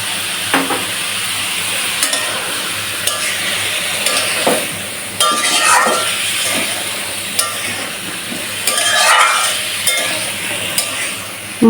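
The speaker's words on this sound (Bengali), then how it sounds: "এবারে কষিয়ে নেব ভালো করে" Jackfruit curry is sautéed with salt in a pan, giving a loud, continuous sizzle broken by repeated scraping strokes and metallic taps of the spoon, with bursts of louder frying in the middle and near the end.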